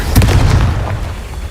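A Confringo fire spell in Hogwarts Legacy bursts as a loud, close boom with a short rumbling tail that fades within a second.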